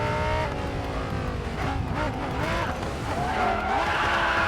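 A car drifts through corners in the Racing Master mobile racing game, its tires squealing in long wavering wails over a steady engine roar, loud and continuous for the whole stretch.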